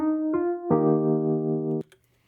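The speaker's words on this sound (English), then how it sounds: "the Wurlitzer, which if you haven't heard that, sounds like this." A few mellow Wurlitzer electric piano notes sound, then a warm chord rings out and is cut off, ending in quiet.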